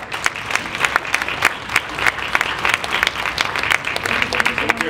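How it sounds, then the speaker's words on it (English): A round of audience applause at a community health session, crisp individual claps clearly audible in a steady, moderately close patter lasting several seconds with no talking. "round of applause."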